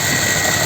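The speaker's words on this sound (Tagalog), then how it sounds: "At good news din dahil gumana na rin yung solar pump." A solar-powered water pump runs in a brief, steady burst, giving a close, even motor hum with a faint buzzing vibration and no pauses.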